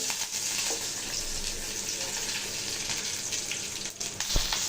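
Mustard seeds, urad dal and curry leaves frying in hot oil for a potato dish, a steady close sizzle with a sharp burst of crackle near the end.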